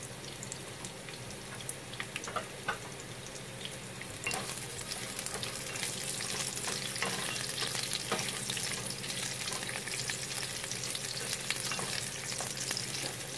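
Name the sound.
onions browning in palm oil in a pan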